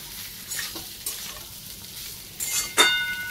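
Soybean chunks sizzle softly in a pan, with a few scraping stirs and a sharp metallic clink near the end.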